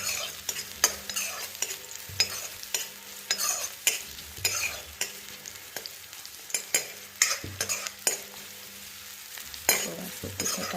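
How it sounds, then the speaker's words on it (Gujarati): Onions sauté in a pan for dabeli, a low sizzle under repeated scraping and stirring strokes of a spoon against the pan in an irregular rhythm, heard close up. "આવી રીતે ઓનિયન એડ કરીને થોડા સોતે કરી લઈએ એને."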